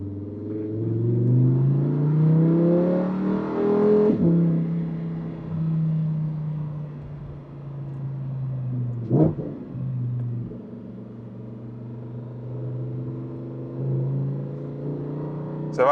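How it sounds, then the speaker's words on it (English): A Lamborghini V10 four-wheel-drive car drives at a motorsport festival, its engine rumbling and revving steadily close by, with pitch rising and falling and a sharp burst near the middle. "this is obviously a four-wheel drive car with that amazing V10. It makes lots of great noises"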